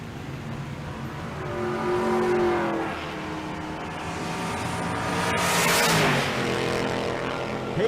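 Drag race launch between a GMC Sierra and a 2004 Chevy Silverado, loud engines roaring and revving down the strip, rising and falling over several seconds with crowd noise beneath.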